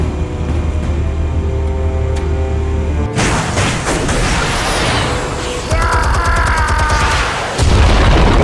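Explosive charges detonate in Batman: The Telltale Series, a heavy burst of booming blasts and mechanical clatter erupting loud and close after a steady hum, rumbling on with debris and rattling.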